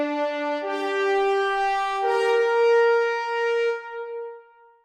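A French horn plays a long sustained note with the bell raised up, bright and piercing with strong brassy overtones, stepping up in pitch twice before fading out, heard close and alone.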